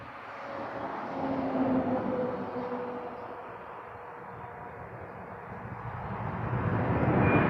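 An airliner's jet engines roar at Toronto Pearson Airport, a broad, steady rumble heard from a distance that swells slightly and fades over several seconds.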